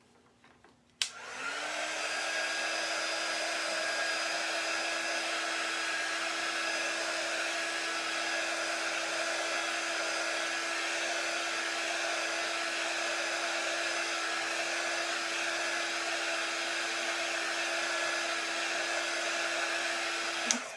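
A hair dryer blows steadily on a decoupage house cut-out, switching on with a click and then whirring at a constant pitch, close and loud, for about twenty seconds before clicking off.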